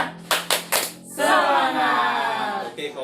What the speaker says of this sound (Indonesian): Ayo kita tepuk semangat lagi ya